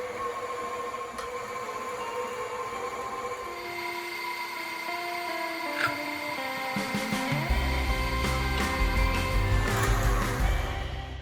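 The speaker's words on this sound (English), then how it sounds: "let's start this up and start grinding again" An electric meat grinder churns through Sicilian sausage meat with a steady motor drone whose pitch shifts as the load changes, ending in a louder grinding rumble.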